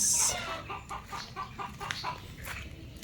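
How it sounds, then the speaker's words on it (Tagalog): Several chickens cluck in a rapid, repeated rhythm nearby, with some louder squawks among steady farmyard clucking. "tingnan natin yung mga manok ko, bakit pumuputak-putak"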